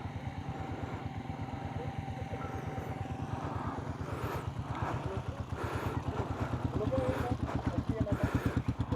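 Pongkan's motorcycle engine chugs steadily with a fast, even pulse through a flooded ride during Typhoon MayMay in Minalin, growing slightly louder toward the end with no clear stall, while voices talk over the running motor.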